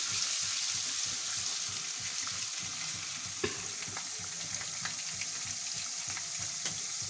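Ginger frying in half a cup of hot ghee for a masala fish curry makes a loud, continuous close sizzle, with a few faint clicks of a utensil against the pan.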